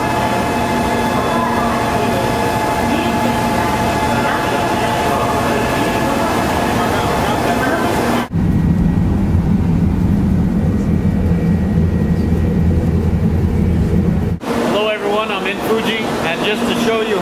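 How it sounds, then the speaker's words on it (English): A Shinkansen bullet train, more than a quarter mile long, roars steadily through a station, a loud sustained rush of wheels and wind that shifts abruptly in tone partway and again near the end. "Just to show you how fast the Shinkansen goes, it's over a quarter mile long"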